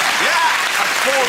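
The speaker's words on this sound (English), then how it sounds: "That's 4 rounds of applause so" A studio audience at a comedy panel show claps loudly and densely, while a voice is heard briefly over the applause.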